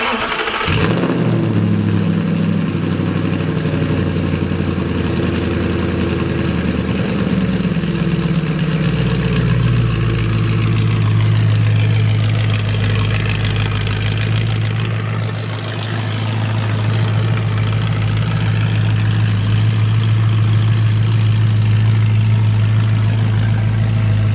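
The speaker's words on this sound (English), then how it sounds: "It's actually not bad at idle, to be honest, but I'm gonna let that cold start end," A straight-piped Audi R8 idles on a cold start, a loud, steady, deep exhaust drone right at the pipes after a brief crank and flare, holding a constant rumble with no one speaking.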